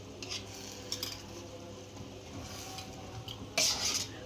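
A ground cashew and poppy seed paste being stirred into biryani, with quiet spoon scrapes and metal clinks against the pot, a louder clatter near the end, and no speech.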